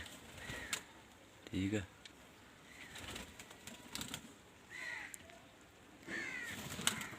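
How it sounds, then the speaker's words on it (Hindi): Pigeons on a rooftop give a few low coos and brief wing flutters amid faint background noise, with someone talking quietly at times. "सब कबूतर बाहर आना शुरू हो गए हैं मेरे, दाना वगैरह खा रहे हैं"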